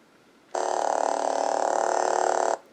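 AliExpress lightsaber hilt buzzing in silent mode: a steady two-second vibration hum that starts and stops abruptly, close and fairly loud, with no other sound around it.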